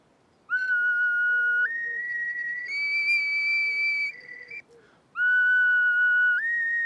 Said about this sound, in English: The duct flute certainly produces a clearer sound